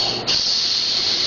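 A young girl imitates a snake with one long, steady hiss, close and loud, held for over a second with no talking.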